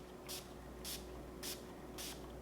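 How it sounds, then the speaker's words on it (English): Four evenly spaced short spritzes from a perfume sprayer nozzle, each a soft airy hiss about half a second apart, close but fairly quiet over a steady low background hum. "I feel like I get a nice even spray."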